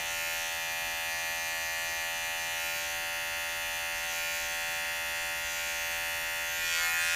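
Electric hair clippers fitted with a number 2 guard trimming a beard, a steady close buzzing drone running without pause.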